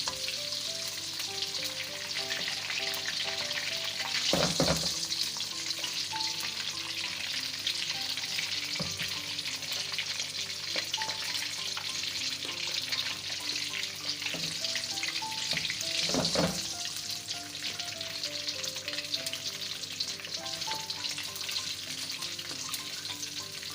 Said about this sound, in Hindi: ठीक है, इनको हम ऐसे तल लेंगे इसके अंदर।